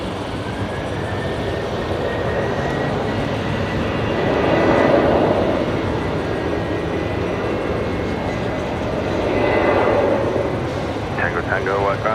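Jet engines of a Velocity 73 airliner lined up on the runway at Brisbane Airport at night, a broad distant roar swelling and fading, with people talking over it.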